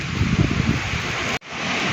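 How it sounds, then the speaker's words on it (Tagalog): Strong wind roars across the microphone with a heavy low rumble, then cuts out abruptly before resuming. "Napakalakas po ng hangin."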